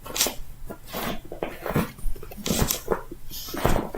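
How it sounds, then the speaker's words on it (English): A pet dog shuffles and rustles while making his bed indoors, giving several close, irregular bursts of scratching and fabric rustle with short pauses between them and no talking. "That's my dog. He's making his bed."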